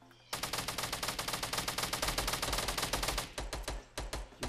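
Sustained automatic gunfire in a duo-mode video game shooter, a long rapid burst of near, loud shots that loosens into separate spaced rounds toward the end.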